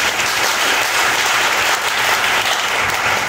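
A church congregation applauding, dense steady clapping from many hands that stays loud and even throughout, with a faint crowd murmur underneath.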